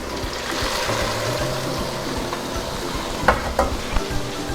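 Boiling water is poured into fried rice in a pot for king fish biryani, giving a steady close rushing, bubbling hiss with a few sharp splashes and clinks near the end.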